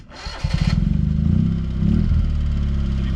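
Engine of a 1987 Honda Acty mini truck cranks and catches, then settles into a loud, close, rapid putter and idles steadily.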